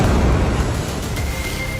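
A powerful explosion near a hospital building in Tel al-Hawa, Gaza, comes through as a heavy, continuous low rumble with broadband roar, loud and unbroken throughout.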